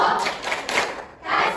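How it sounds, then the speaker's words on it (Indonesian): A classroom group claps in a short rhythmic chant pattern, quick bursts of hand claps with a brief pause between, moderately close and fairly loud. "Kita apresiasi kelompok 1 dengan memberikan tepuk wow."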